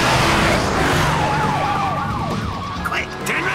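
A cartoon police siren wails in rising and falling sweeps over a car engine's rumble, fairly close and loud, fading slightly toward the end.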